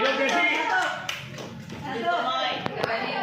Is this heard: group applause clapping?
yes